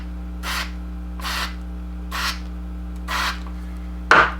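Control switches on a Music & Sound MC602 intercom are worked back and forth after a cleaner spray, giving four evenly spaced raspy scraping strokes over a steady electrical hum, ending with a sharp click.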